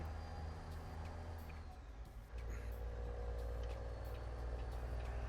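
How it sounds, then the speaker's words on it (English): Truck engines in American Truck Simulator drone steadily behind the driver, a low, continuous rumble with a brief air-brake hiss and faint tonal whine, fairly quiet overall. "All I can hear is Mav's trucks just a screaming behind me"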